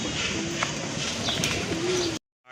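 A Raj Golla pigeon coos in a low repeated tone, two short hums over a noisy background with faint voices nearby, close to the microphone before cutting off abruptly.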